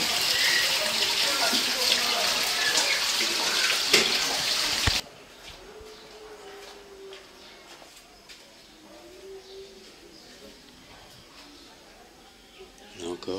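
Water runs from a fountain in the Tetouan medina, splashing steadily and fairly loudly for about five seconds before cutting to a much quieter street ambience.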